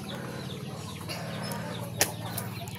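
Breeding chickens on a hillside farm cluck and stir with a rustle of flapping wings, fairly soft and distant, over a low droning background, with one sharp brief burst near the end.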